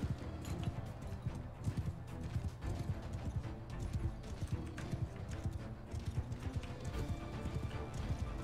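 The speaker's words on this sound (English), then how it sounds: "They got even more horses." Many horses gallop in a Mount & Blade II: Bannerlord battle, a dense, loud rolling clatter of hoofbeats with occasional whinnies, no talk over it.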